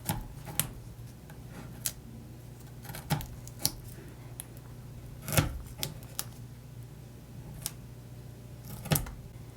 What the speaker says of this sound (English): I like that I can cut it with my scissors even into thinner strips like that